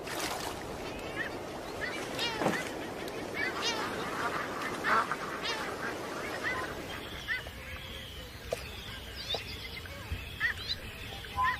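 Seabirds on Alaska's summer coast give a chorus of honking, goose-like calls, dense and overlapping at first, then thinning to scattered cries over a quieter background.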